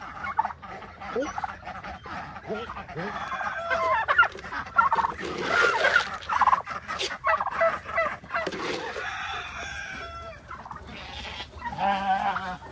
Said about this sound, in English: look at all those ducks